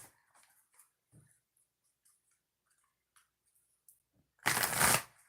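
Oracle cards are shuffled: faint scattered taps and riffles come close by, then a loud, brief burst of rapid flutter near the end.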